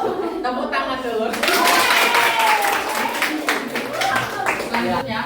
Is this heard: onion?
no